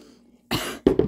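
A person coughs close by, one harsh burst followed by two quick rougher coughs, loud and abrupt after a quiet moment.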